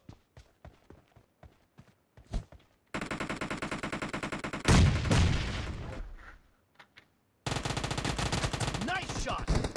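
Rapid automatic gunfire in a team deathmatch shooter game, with sparse single shots and footsteps at first, then long loud bursts of sustained machine-gun fire separated by short pauses.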